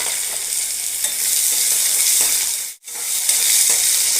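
Crushed garlic, curry leaves and onion fry in hot oil with mustard seeds: a loud, dense, unbroken sizzle, close up, dropping out for a split second midway before resuming at full strength.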